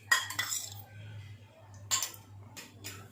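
Tamarind pulp and spices being spooned onto bangda (mackerel) fish in a kitchen, giving a few light metallic clinks and scrapes of a spoon against a dish, close and fairly quiet, with a low hum underneath.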